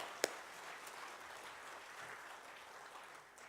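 A church congregation applauds worship singers at a Sunday service, a soft, steady patter of clapping that fills the hall with one sharper clap near the start.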